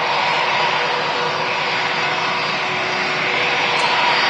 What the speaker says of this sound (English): 757 rolling down the runway, heading off to Palma de Mallorca